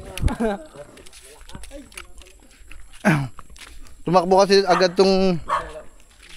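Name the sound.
dogs barking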